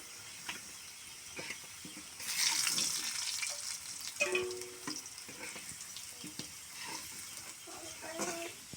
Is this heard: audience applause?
no